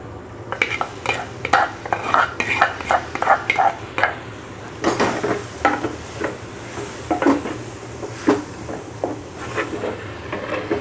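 Chicken goes into a pan for chicken thoran and is stirred, a close, busy scraping and clattering of a utensil against the pan with a soft sizzle, continuing in uneven bursts.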